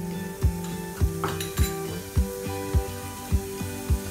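A teaspoon of lentils (dal) stirred in hot oil in a pan, regular metallic scraping knocks about twice a second over a steady sizzle.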